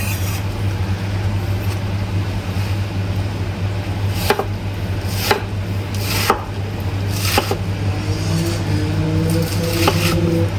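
A knife coarsely chopping vegetables on a board for a Brazilian-twist farmhouse salad in a home kitchen, with about eight distinct, unevenly spaced chops over a steady background hum.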